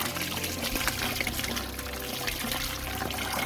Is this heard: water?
yes